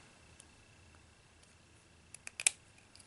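Scissors snip paper for a Christmas bow ornament. The quiet room tone gives way to a few soft, crisp snips near the end of the clip.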